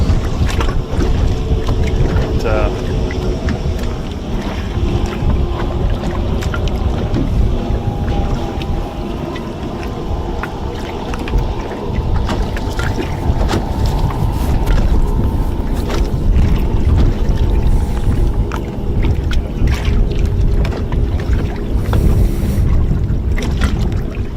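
Bass boat engines hum steadily across open water on Wheeler Lake, Alabama, during a bass fishing tournament, with wind buffeting the microphone and a constant low rumble throughout.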